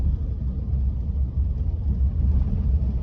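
Constant low rumbling drone inside a moving Tata Nano on a stony road, with the air conditioning on low, dense road noise with a rough texture, steady and fairly loud throughout.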